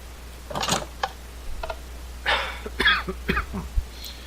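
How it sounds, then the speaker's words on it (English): A person coughs in a string of short, rough bursts, with a throat-clearing rasp between them. The coughs are close, fairly loud and spread unevenly over a few seconds against a quiet background. "I was trying to hold that cough back for so long."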